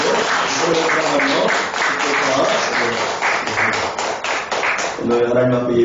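Congregation clapping steadily through a Sunday church worship service, the rapid claps layered over music and singing that fill the hall, with a slight dip before the clapping swells again near the end.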